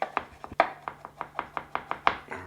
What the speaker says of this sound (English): We'll just start chopping this fine.